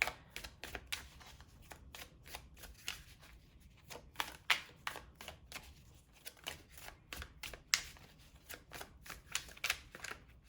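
Tarot cards are shuffled and drawn in a steady run of soft, crisp flicks and riffles, close and fairly quiet, with no talking.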